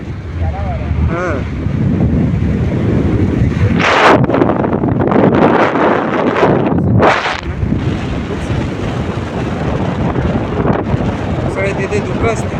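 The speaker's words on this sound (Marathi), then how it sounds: "खारा वारा." Salty sea wind blows hard across a bridge at Mandad, roaring and buffeting the microphone in loud continuous gusts, with two sharper blasts in the middle and people talking underneath.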